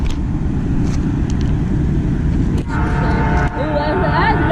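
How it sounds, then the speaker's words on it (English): A long Norfolk Southern intermodal freight train rumbles loudly close by, then sounds its air horn in a sustained blast over the train noise midway through. "that's a nice horn"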